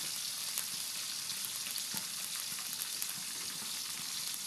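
Pork frying in butter with garlic, a quiet steady sizzle and crackle with occasional stirring clicks, no speech.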